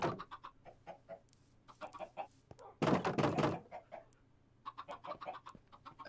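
Chickens cluck in a Minecraft Hardcore Mode game, short bursts of clucking spread across the moment with a brief louder scuffle in the middle, fairly quiet and without talk.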